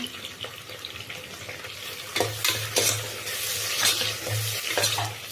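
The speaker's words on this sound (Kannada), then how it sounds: "ಈಗ ಇಲ್ಲಿ ಅದು ಫ್ರೈ ಆಗಿದೆ. ನಾನು ತಗೊಂಡಿರೋ ಟೊಮೆಟೊ ಹಾಕ್ತಾ ಇದ್ದೀನಿ" Tomatoes go into a pan of frying chicken gravy base, sizzling steadily with stirring scrapes and a run of sharper spatters and bubbling pops in the second half, close and clear.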